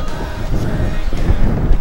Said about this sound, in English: It's windy as balls up here